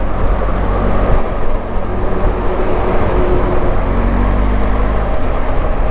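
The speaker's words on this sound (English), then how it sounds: "the sound that the engine makes when you open the throttle, it almost sounds like a car engine" Steady, loud engine drone from a BMW R 1250 GS motorcycle's boxer twin as the throttle opens, a smooth car-like hum with no thumping pulse, continuous from start to finish under wind and road noise.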